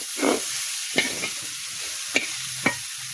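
Potatoes and beetroot frying in a pan, a low sizzle under several sharp spatula scrapes and stirring knocks spaced irregularly, close by and fairly loud.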